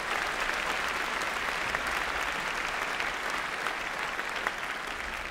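Sustained audience applause for postgraduate medicine and natural sciences graduates at a graduation ceremony, a broad, even roar of many clapping hands holding steady at full strength throughout.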